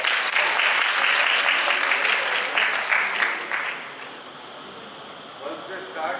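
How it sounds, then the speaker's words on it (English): Audience clapping at a students' summit session on Ayurveda and homeopathy, a dense steady applause for about four seconds that thins and fades, with a few scattered claps near the end. "Give a clap to her."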